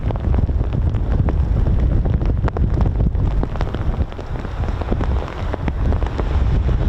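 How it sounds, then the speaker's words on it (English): Rain and gusting wind at RAF Mildenhall airfield make a dense, steady roar, with wind buffeting the microphone close by and no voices. "Hopefully the rain will go away at some point."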